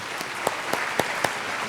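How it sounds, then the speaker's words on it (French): At a systems engineering lecture, an audience gives a short round of applause with distinct claps standing out at a steady, even pace. "On peut encore vous applaudir"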